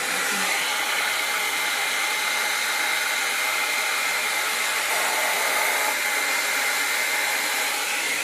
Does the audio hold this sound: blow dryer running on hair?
yes